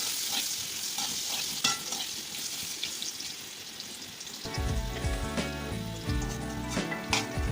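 Potato pieces fry in oil in a pan over low heat, a steady close sizzle with occasional stirring clicks. Background music comes in halfway and continues under the frying.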